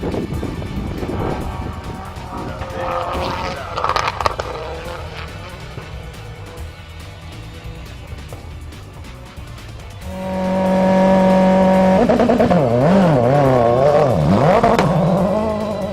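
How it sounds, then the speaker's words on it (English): World Rally cars, including a Ford Focus WRC, at speed on a rally stage in Trinidad, with a loud engine roar that builds and rises and falls in pitch as the revs climb and drop late in the passage. "we see just how fast these World Rally cars rip through the stage"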